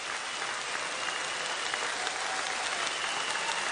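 Sustained applause from a large audience following Singapore Prime Minister Lee Hsien Loong's speech, a dense, even wash of clapping heard at moderate distance without a break.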